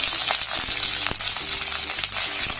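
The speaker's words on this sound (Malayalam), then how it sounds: "സവാള ഇട്ടൊന്ന് ഇളക്കി കൊടുക്കാം." Two medium onions, chopped into squares, frying with curry leaves in a pan for kootu curry, steady close sizzle with short scraping and clinking strokes of a spoon stirring them.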